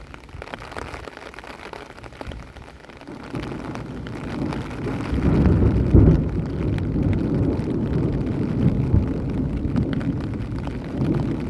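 Steady rain patters and hisses at night in the lakeside town of Limone sul Garda, Italy, growing heavier after a few seconds into a dense, close downpour with a low rumble beneath.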